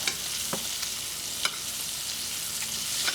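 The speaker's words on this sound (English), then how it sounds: "to baste the steak a little bit with the butter" Steak sizzles in a pan with a constant bright fry while a spoon bastes it with butter, the spoon scraping and clicking a few times through the hiss and nobody speaking.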